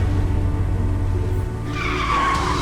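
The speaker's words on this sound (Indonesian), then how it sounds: "Kenapa ngerem mendadak begini?" A car brakes hard and its tires skid on the road, a loud, close squeal that swells in over a low engine rumble and holds for about a second, with no talking.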